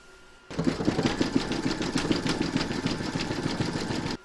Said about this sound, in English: Pop your hoop back into your machine and stitch round number 10.